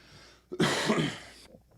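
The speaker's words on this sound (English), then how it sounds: "Oh, hold on, cough break." A single harsh cough or throat clearing, close and fairly loud, in a burst of just under a second, then quiet.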